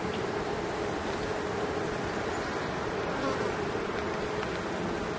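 Honeybees in an opened beehive drone steadily in a dense, close, unbroken buzz that stays at an even level throughout, with no voices over it.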